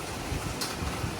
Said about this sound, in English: blowing and gusting.